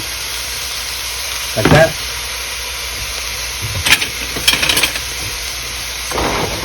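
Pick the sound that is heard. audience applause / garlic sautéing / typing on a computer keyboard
garlic sautéing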